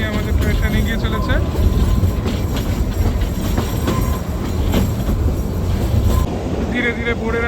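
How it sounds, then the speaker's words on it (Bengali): A train rolls along its rails through the dark of night, a steady loud rumble with rhythmic clickety-clack and faint wheel squeals running throughout. "এই অন্ধকারের মধ্যে দিয়ে আমাদের ট্রেন এগিয়ে চলেছে"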